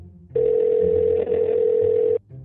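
An outgoing telephone call gives one steady electronic ringing tone, a loud, clear, sustained hum lasting just under two seconds before stopping, with no voices.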